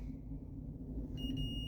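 A multimeter continuity-test beep from work on a 1997 Bally Cirque Voltaire pinball machine: a thin steady tone begins past the midpoint and holds to the end, quiet above a low electrical hum.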